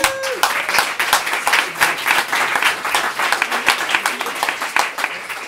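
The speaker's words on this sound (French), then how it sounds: "On peut l'applaudir." Audience applauds a stand presenter at a round-table event on masculinity, with crisp, dense clapping from a close crowd, rising and falling in bursts, and a brief voice at the very start.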